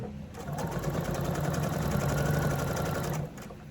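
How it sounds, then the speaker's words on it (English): A sewing machine runs in a steady continuous whir for about three seconds while stitching quilt fabric, then stops abruptly; the motor hum is moderately loud and close. "I'm used to at least sewing at the edge of the fabric"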